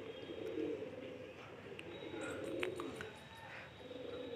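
Pigeons cooing in soft low bursts with a few faint chirps, over steady outdoor background noise.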